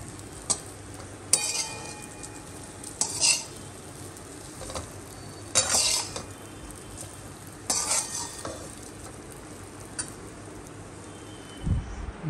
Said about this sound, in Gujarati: અત્યારે વઘારાય છે રાતના ઢોકળા